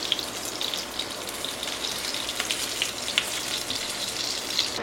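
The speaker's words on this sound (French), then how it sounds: "j'ai mis mes poissons, donc ils sont en train de cuire dans l'huile" Fish fillets frying in hot oil in a pan for a homemade fish sandwich, a steady dense sizzle and crackle close by with small pops, constant and unbroken, with no voices.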